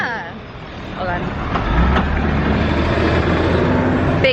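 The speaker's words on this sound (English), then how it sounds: "Big truck behind us." A big truck rumbles on the road behind, its low engine growl building and holding steady at fairly close range amid traffic noise, while people talk over it.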